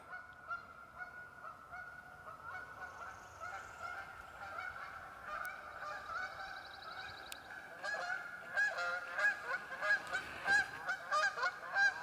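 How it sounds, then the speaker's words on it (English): Goose honking down on a pond, repeated calls close together that grow louder and denser toward the end, no one speaking. "Sounds like I pissed off the goose down there on the pond."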